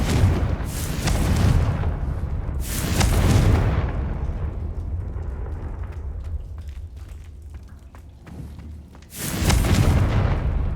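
Confringo spell explosions in Hogwarts Legacy, three heavy booming blasts with rumbling tails spread across the clip, loud and close, no talk.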